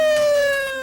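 A tornado warning siren in Illinois sounds a steady, loud, sustained wail. Its pitch drifts slightly downward and it fades a little toward the end.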